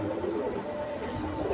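Pigeons coo softly in a seller's loft stocked with Bombay grizzle and other breeds, a low steady murmur with light chirps and no voices.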